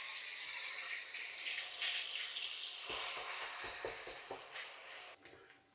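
Two onions' worth of onion paste hits hot oil with whole cumin, a loud hissing sizzle that swells, then crackles and spits unevenly with stirring before dropping off sharply at the end.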